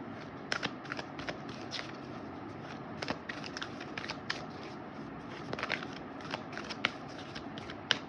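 Tarot cards are shuffled by hand nearby, producing quiet, irregular riffling snaps and flicks in a steady stream with no talking.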